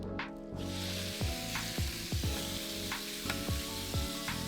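Steady sizzling of steak searing in a hot pan, a continuous hiss broken by a few clinks and scrapes of a utensil, close and fairly loud.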